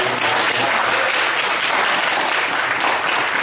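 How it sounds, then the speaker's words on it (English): Audience at a Princeton panel applauding, a dense steady burst of clapping that holds at an even loudness for a few seconds. "So give him a round of applause."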